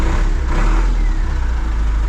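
A John Deere tractor engine runs after a cold start, a loud, steady low rumble close by.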